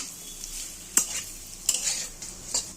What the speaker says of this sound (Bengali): আদা আর মাছটা একসাথে ভাজা হচ্ছে।